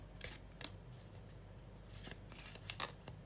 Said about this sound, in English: Let's now go back to shuffling.